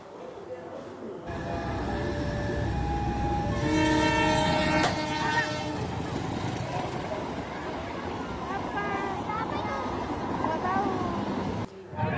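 A train rumbles past close by at a level crossing in Deli Serdang, North Sumatra, its horn sounding in sustained blasts, loud and continuous before fading at the end.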